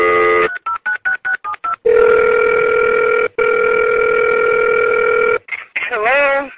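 Telephone line tones during a Halloween prank call: a quick run of short dial-tone bursts, then a loud steady ringback tone held for several seconds, a brief gap, and another long tone before a voice answers with a wavering sound.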